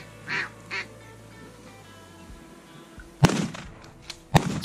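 A 28 gauge shotgun fires twice at mallard ducks on a duck hunt, two sharp, loud close blasts about a second apart, after a few earlier duck quacks in the background.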